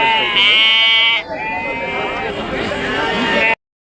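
Young rams, four to five month old lambs at a sheep and goat market, bleat loudly and repeatedly up close, their calls overlapping in a continuous chorus.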